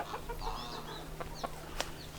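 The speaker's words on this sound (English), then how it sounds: "And then I've got this chicken" A chicken clucking in a garden patch, soft short clucks scattered over a few seconds against a low background hum, fairly close but quiet.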